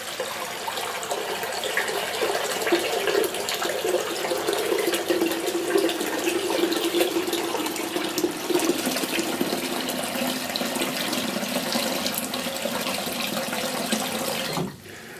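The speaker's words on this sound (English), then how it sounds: "I'm going to fill the sink with water" A tap runs into a sink filling with tepid water, a steady rushing splash that holds evenly for about fourteen seconds before cutting off abruptly near the end.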